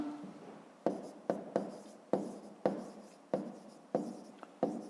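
Handwriting an answer for a fifth-grade math exercise: a pen scratches across paper in repeated strokes, about seven distinct sharp-onset bursts each trailing off, close and quiet with no speech.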